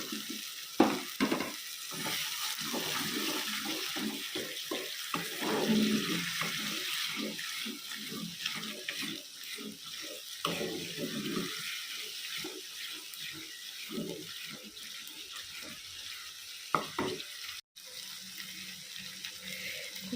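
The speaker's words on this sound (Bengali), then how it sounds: "তারপর দিয়ে দেবো এর মধ্যে আসল উপকরণ যেটা হচ্ছে দই সেটাকে আমি খুব ভালো করে ফেটিয়ে রেখেছি" Whisked yogurt goes into frying spice masala for a doi katla fish curry, setting off a close, steady sizzle with repeated stirring and scraping in the pan.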